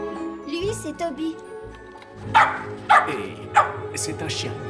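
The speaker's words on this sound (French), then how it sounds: "Et c'est un chien." A dog barks and yips several times in short sharp bursts, loud and close, interleaved with people speaking, along with a faint jingling.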